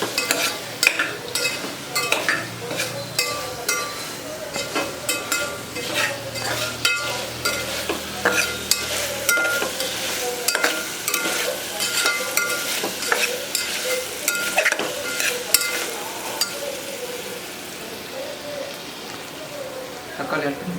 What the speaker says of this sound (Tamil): இஞ்சி பூண்டு ஸ்மெல்லாம் நல்லா போகிற அளவுக்கு வதக்கணும்.